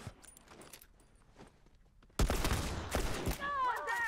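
Gunfire in The Last of Us multiplayer breaks out suddenly after a quieter stretch, a loud dense burst of shots and impacts, followed by whizzing, swooping effects near the end.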